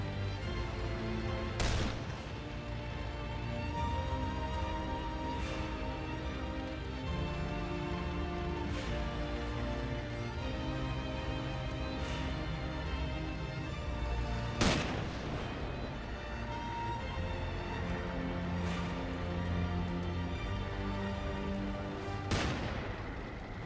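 Game gunfire from Lamplighters League cracks out as a few sharp, isolated shots spaced seconds apart over a steady, fairly quiet bed of music and ambience.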